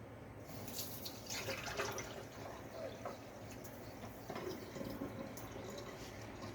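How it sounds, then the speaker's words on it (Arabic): Water poured or running into a bowl while almond rghifa dough from Meknes is prepared in a kitchen, a steady faint trickle and splash with no talk. "ما كفانيش ماء الزهر، مضطرة نزيد واحد شوية الماء"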